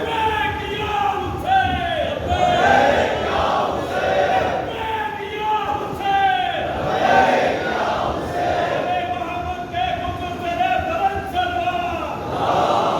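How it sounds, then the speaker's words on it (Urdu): A crowd at a religious gathering (majlis) at Qadam Gah Mola Ali in Hyderabad chants religious slogans in loud, rising and falling waves of massed voices, with call-and-response swells repeating through the whole stretch. "صحیح طرح نعرہ لگا کے دکھاؤ تاکہ جواب دیں"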